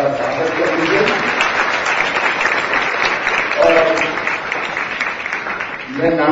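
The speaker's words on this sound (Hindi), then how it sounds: "तो आप एक बार फिर से ताली बजाकर सबका स्वागत कर लीजिए" Audience applause at a Giants International Day ceremony honouring award recipients, a steady, dense wash of clapping lasting the whole stretch, with brief bursts of a voice on a PA cutting through now and then.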